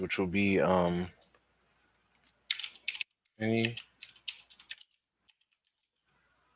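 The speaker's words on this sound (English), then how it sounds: "And then I type in the name of this," Keyboard typing on a computer while entering a texture name in Cinema 4D, heard as two short bursts of quick clicking keystrokes, each following a brief spoken phrase, with quiet pauses between.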